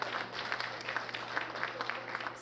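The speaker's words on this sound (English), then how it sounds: "Let's give a big round of applause for our..." Audience applause at a college employee recognition and year-end celebration, a fairly faint, even patter of many hands clapping continuously with a low steady hum beneath.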